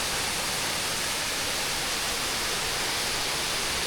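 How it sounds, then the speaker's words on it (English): A magnificent waterfall on the descent from Harishchandragad trek, roaring as a dense, steady, broadband rush of falling water, loud and continuous with no voices. "Took a quick break to enjoy this magnificent waterfall"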